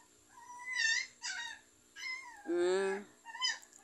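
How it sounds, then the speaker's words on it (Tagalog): A small dog whimpers and whines in high, wavering cries, nearby, with brief pauses between each plaintive sound. "Maingay yung maliit na aso ko."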